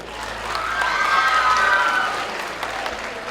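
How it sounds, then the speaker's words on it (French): Audience applause at a youth film award ceremony as a trophy is presented, a steady wash of clapping that swells in the middle and tapers off, with a faint voice and some cheering mixed in. "Membres du jury, on applaudit très très fort."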